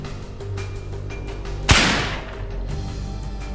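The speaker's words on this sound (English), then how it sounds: "a battery-powered mechanism that creates a small explosion at the end of the barrel when the trigger is" A single sharp bang from a battery-powered prop gun firing a small explosion at the barrel, sudden and loud, with a short decaying tail over a steady background hum.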